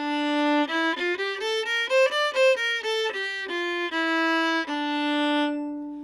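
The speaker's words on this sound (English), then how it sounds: "one of them is just the minor key. It sounds like this." A solo klezmer violin plays a minor-key scale, running up through clear bowed notes and back down before closing on a long held tone. It is heard alone with no talk and sounds clean and moderately loud.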